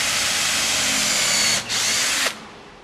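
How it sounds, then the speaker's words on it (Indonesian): A power drill bores a pilot hole for a screw in a teak floating shelf, a loud steady whine with one brief dip, then cutting off sharply. "Ini kita lubangi pilot ya."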